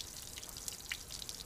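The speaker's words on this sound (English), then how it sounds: "evenly the water is falling off the bottom of the sheet" Water falls evenly off the bottom edge of a copper garden fountain sheet, making a faint, continuous patter of fine drips and trickles.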